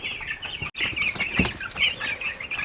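A brood of two-week-old chicks just starting to grow feathers, peeping steadily in shrill chirps at close range, with a brief flutter of wings partway through.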